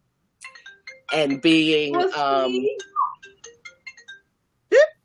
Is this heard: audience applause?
no